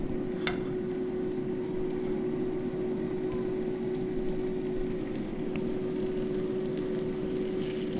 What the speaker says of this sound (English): enjoy the lovely sizzling in the pan